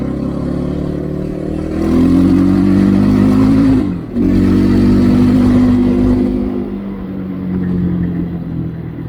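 KOVI MAX 300 motorcycle engine pulling steadily in sixth gear, a loud, close, sustained drone that climbs and holds with one brief dip midway, with no talk.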